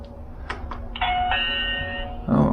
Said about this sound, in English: I'm gonna press the doorbell.